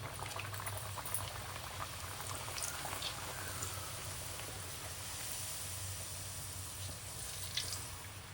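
Bhature fry in very hot oil with a steady, dense bubbling sizzle, close and even throughout, marked by occasional faint pops.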